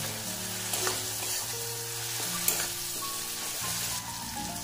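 Curry leaves and tomato frying in a pan for a vegetarian dal, a continuous sizzle with a low steady hum underneath and scattered light scraping as the mixture is stirred, no voices.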